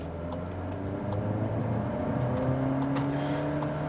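A Cupra Formentor engine pulling under acceleration, its tone rising steadily through the gears. It is moderately loud and continuous, heard from inside with no talking.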